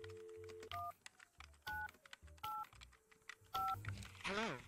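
Touch-tone telephone dialing in a VR video game: a run of short paired-tone beeps keyed one after another at a steady, uneven pace, with a low background hum and a brief warbling tone near the end.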